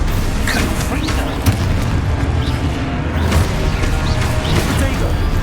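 Confringo blasting spell exploding in Hogwarts Legacy, a booming crash with rumbling debris that holds loud and dense across the whole stretch, with other clattering game effects layered in.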